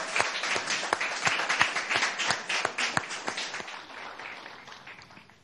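Audience applause from a gathering in a Barlovento mountain town during a televised government science and technology event, with sharp individual claps standing out at first and then thinning and fading.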